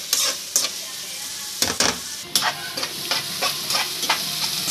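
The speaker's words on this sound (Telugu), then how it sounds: "నూనెలో ఇవన్నీ బాగా మగ్గాలి" Onions and green chilies fry in oil in a pan, giving a soft steady sizzle broken by several sharp scraping stirs of a spoon against the pan.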